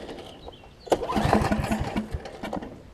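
A Snapper RER riding mower engine cranks and catches, a close mechanical churn that rises after a second and keeps chugging unevenly to the end.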